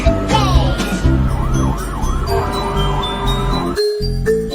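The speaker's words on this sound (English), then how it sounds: "fire truck." A toy fire truck siren in a children's colors cartoon wails up and down in a steady cycle, mixed with toy-like musical tones and a loud, busy background.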